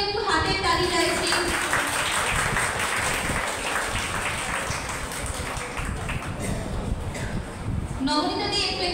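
Audience applause at a Rabindra Jayanti event for B.Ed and D.El.Ed students, dense clapping from a crowd that fills several seconds, with voices and a spoken announcement at the start and end.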